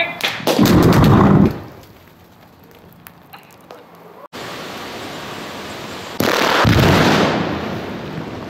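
Backyard rock-blasting shot of 103 holes: a sharp explosive burst with rumbling debris, a quieter stretch of hiss, then another heavy rolling blast, loud and close.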